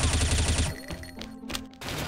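Rapid bursts of gunfire in XSHOT, a shooting video game played in Bomb Fair mode: a fast, dense volley at the start, then scattered single shots and bangs.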